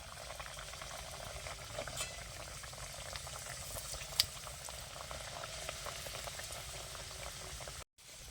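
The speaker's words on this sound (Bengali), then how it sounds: "তো এখন আমি এগুলো ভেজে নেব আর তেল দিয়ে দিচ্ছি তেলটা কিন্তু গরম হয়ে গেছে" Matar kachori, crisp stuffed pastries made with green peas, frying in hot oil, giving a steady bubbling sizzle that runs evenly and fairly close before cutting off near the end.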